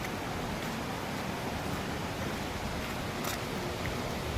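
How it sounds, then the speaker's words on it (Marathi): A small village river after monsoon rain gives a steady, even broadband rush of flowing water, close and continuous with no breaks throughout. "इकडून छोटीशी नदी येते"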